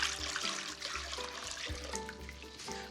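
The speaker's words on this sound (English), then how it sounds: "I'm adding 4 cups of chicken stock into that lovely garlicky pot." Chicken stock poured into a pot with garlic, a steady liquid splash heard under background music.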